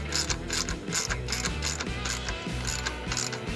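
A ratchet snugs the bolts on the carburetor plate of a Ranch King mower, quick repeated clicking strokes in short bursts, close and clear with no talking.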